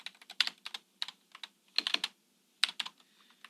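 Quick, uneven clicks of typing on a computer keyboard come in close bursts with short gaps between them. No voices are heard.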